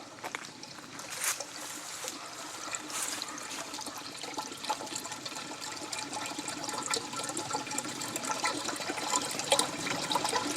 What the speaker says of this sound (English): It's just the sound of a drain, but it sounds so nice.